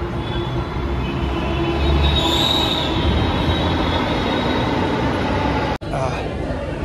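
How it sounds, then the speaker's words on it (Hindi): A metro train runs through a station with a steady, loud rumble of wheels on rails and a high metallic squeal. It is close and continuous, with a brief cut near the end, and a voice speaks over it. "अभी मेट्रो का वेट कर रहा हूँ मैं"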